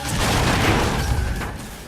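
A dense, loud roaring rumble fills the whole span in the racing video game Split/Second, an explosion in the game blending into a broad sustained blast.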